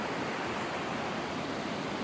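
Stream water rushing through a canyon, a dense continuous broadband roar heard from right in the middle of the creek, steady and unbroken.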